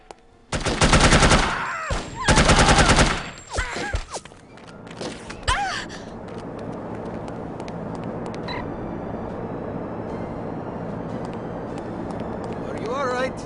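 Loud bursts of rapid automatic gunfire in the video game The Operative: No One Lives Forever, several separate volleys early on, then a single shot, a low hum and a voice speaking.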